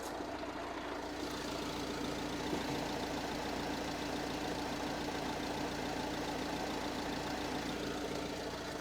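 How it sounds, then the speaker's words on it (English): A 2014 Vauxhall Vivaro van engine idles steadily, a smooth, quiet, even hum with a faint mechanical tick, running alone without voices. "It's a really good engine, this. It's really nice and quiet."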